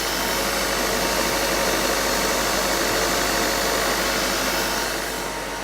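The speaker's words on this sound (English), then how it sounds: "The engine speed at the moment is around 1500 RPM." A diesel engine holds a steady speed of around 1500 RPM during a DPF and emissions service, producing a loud, unbroken mechanical drone with a rough vibrating texture that eases slightly at the very end.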